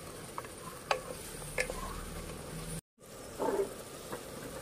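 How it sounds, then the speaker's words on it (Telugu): Ginger garlic paste sizzles quietly in a pan as it is stirred, with faint spoon scrapes and clinks and a brief cut to silence partway through. "ఇది బాగా ఫ్రై చేసుకోవాలి"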